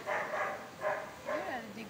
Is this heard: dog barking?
yes